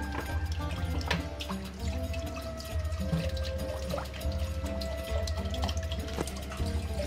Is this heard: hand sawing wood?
no